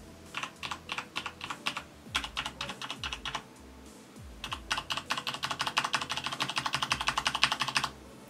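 Fast typing on a Corsair K95 RGB mechanical keyboard with no O-rings fitted, loud clacky keystrokes in quick bursts, a pause, then a long steady run of hard-hit keys, close up and alone.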